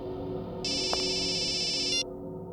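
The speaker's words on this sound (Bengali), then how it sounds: "বস, আপনার ফোন।" A mobile phone ringtone sounds as a steady high electronic trill for over a second, loud over a low background hum and room tone, then cuts off abruptly.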